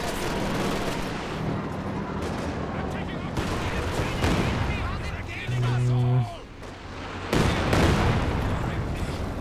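Katyusha rocket artillery in the Company of Heroes 2 video game fires amid a dense battle mix of gunfire and explosions, with a sustained loud barrage near the middle under continuous commentary.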